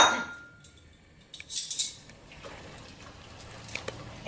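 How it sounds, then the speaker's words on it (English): Shrimps stirred in a pot with carrots, celery and pickling spices, giving a few soft scraping and clinking utensil-on-metal sounds, brief and fairly quiet, with no talking. "Give it a stir."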